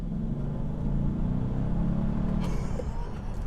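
A Bentley Arnage R engine roars with a deep, steady rumble as it accelerates hard from 1,000 rpm, the drone sustained throughout without any voices.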